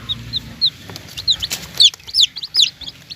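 Lemon sweater breed chickens with nine young chicks give repeated high, thin peeps and soft calls, close by and fairly clear over a quiet background.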